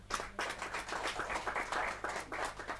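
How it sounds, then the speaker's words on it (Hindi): Loud, dense applause from a poetry-gathering audience, many hands clapping in sustained irregular bursts close to the microphone, with no voices over it. "जोरदार तालियां"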